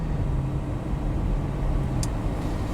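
A 2023 Mercedes-Maybach GLS 600 SUV rounds corners at around 25 mph, giving a steady, low cabin rumble of engine and road noise with no talking.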